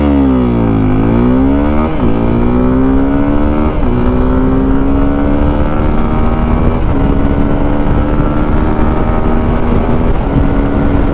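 A Suzuki V-Strom SX 250 single-cylinder motorcycle revs up hard from a standing launch in first gear and climbs in pitch, dropping briefly at each of several gear changes as it pulls away loudly and steadily.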